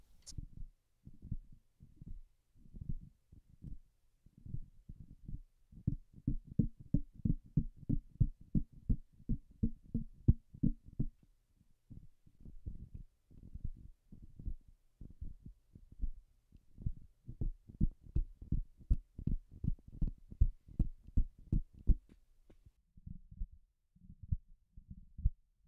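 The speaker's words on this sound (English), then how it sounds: "So let's test handling noise on all three handheld mics." Handling noise on handheld microphones including a Heil PR-35: a series of soft, low thumps and bumps in irregular bursts of rapid taps, close and muffled, with near silence between groups.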